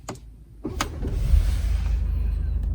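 A BMW 320d G20 diesel engine cranks briefly, then catches and settles into a steady, close idle rumble.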